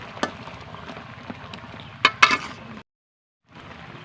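Fried khaja being stirred into thick sugar syrup in a pan, with soft wet scraping and sticky stirring, a couple of sharper clinks from the utensil, then a brief silence before the stirring resumes.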